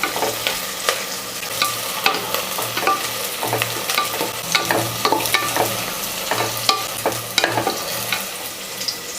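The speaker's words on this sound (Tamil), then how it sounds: "இப்போ வெங்காயம் சேர்த்துக்கலாம். பிரியாணிக்கு வெங்காயம் எப்பவுமே நல்லா செவந்து வரணும்." Chopped onions fry in hot oil for a chicken masala biryani, with a steady close sizzle broken by regular scraping and clacking as a spoon stirs them around the pan, and no one speaking.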